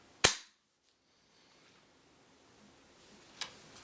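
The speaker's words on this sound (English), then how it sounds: "pull the trigger like on a Glock" A single sharp dry-fire click from the trigger of a CZ vz2008 rifle, loud and close, followed by near silence and a few faint handling taps near the end.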